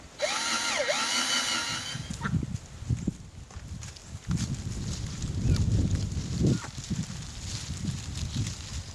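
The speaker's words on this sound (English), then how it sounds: "Now all that's left to do is to drill the hole and put it on the lanyard." A power drill whines up and runs in a few short bursts, drilling a hole in a wooden stick whistle, close by with rough grinding between pauses.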